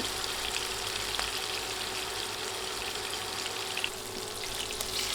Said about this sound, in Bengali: মাছ দিয়ে এক পাশ দুই তিন মিনিট ভেজে নিয়েছি এখন উল্টে দিয়ে অন্য পাশও ভেজে নিব